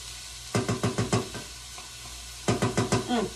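Mushrooms and peas for a risotto being stirred in a hot pan, giving two bursts of quick, rhythmic scraping strokes over a steady low sizzle, close and fairly quiet, with no talking.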